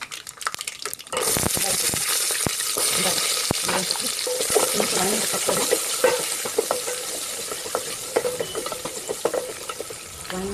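Seasoning sizzles in a little hot oil as the tempering for a brinjal tamarind curry begins, with steady close frying and scattered stirring clicks, starting after a brief quiet moment.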